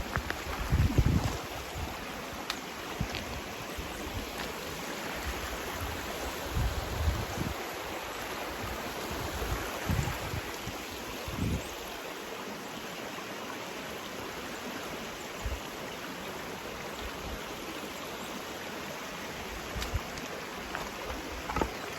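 Someone wades across a creek on a wilderness trail in the Hercules Glades Wilderness, with a steady rush of flowing water and gusts of wind, broken by occasional close splashes and sloshing steps.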